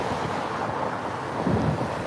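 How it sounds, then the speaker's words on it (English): Strong wind buffets the microphone outdoors beside a Canadian slaughterhouse on a hot day, a steady broadband roar with a gust swelling near the end, no one speaking. "I know it's really windy."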